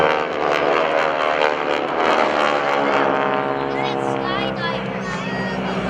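GEICO Skytypers propeller aircraft fly past in formation at the Rhode Island ANG Open House airshow, a loud steady engine drone that sweeps in pitch, with an announcer talking over it.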